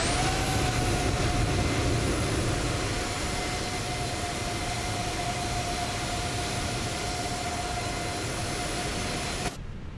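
Steady, loud jet engine whine at Heathrow during pushback and start, a high tonal note held over broadband rumble for nearly the whole span before cutting off at the end; no talk.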